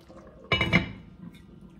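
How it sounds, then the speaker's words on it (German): A covered pot of beef bourguignon stew simmering, a short burst of metallic lid and pot clatter with bubbling liquid rising sharply then settling into a quiet low burble. "und dann bei mittlerer Spitze schön einköcheln bzw. schmoren lassen"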